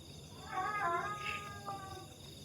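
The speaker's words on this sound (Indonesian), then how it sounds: "Oh, kucing." A cat meows a few times at night, faint and fairly close, with quiet murmuring voices and a low background hum.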